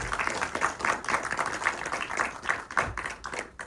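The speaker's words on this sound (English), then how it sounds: "Round of applause." A small audience at a film festival Q&A with directors claps steadily, a loose, close round of applause with distinct individual hand claps throughout.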